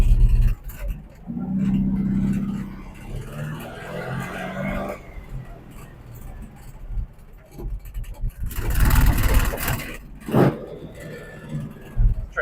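A 1961 VW Beetle's air-cooled engine accelerating while driving, a rough mid-pitched drone rising and falling through gear changes, with scraping road noise and bursts of wind, recorded from inside the car.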